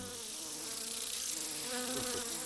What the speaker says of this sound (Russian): смотри, комары